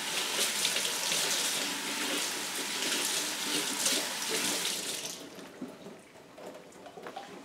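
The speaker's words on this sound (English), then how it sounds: "I'm just going to put it under the water and give it a little rinse." Lukewarm tap water runs steadily over a Phalaenopsis orchid's roots during repotting, a loud continuous splashing stream that cuts off after about five seconds, leaving quieter drips and faint handling sounds.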